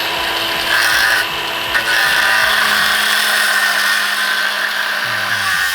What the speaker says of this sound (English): Why are we cutting this lug off?